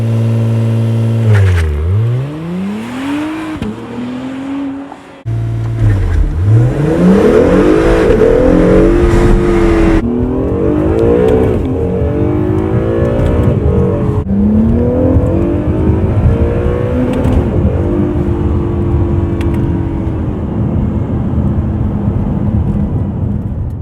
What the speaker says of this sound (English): we're going to do some pulls here, a little launch control, and show you what this thing does now